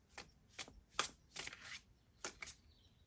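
Tarot cards are shuffled and drawn from a deck in a series of five or six crisp riffling bursts with short pauses between, close and fairly quiet, with no talking.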